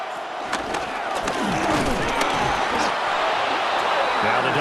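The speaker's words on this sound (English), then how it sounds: "Well, this crowd trying to force a false start here." A simulated stadium crowd in Madden NFL 26 swells and roars to force a false start in a Saints–Dolphins game, getting louder throughout while a commentator talks over it.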